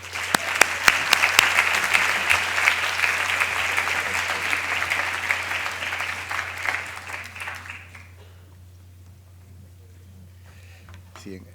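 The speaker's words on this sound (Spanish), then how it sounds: "acompáñenme a darle un fuerte aplauso a nuestro invitado" Audience applause for a guest speaker at an economics lecture event, a full crowd clapping steadily for about eight seconds before fading out, then near silence.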